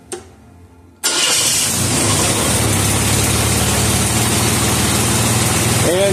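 A vehicle engine with a Ford C6 transmission and a reverse-pattern full manual valve body cranks and fires loudly after a quiet second, then settles into a steady, close idle that runs to the end.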